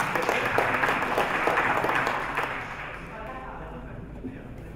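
Crowd applauding at a grappling bout for third place, broad steady clapping with voices mixed in, loudest at first then easing to a lower murmur.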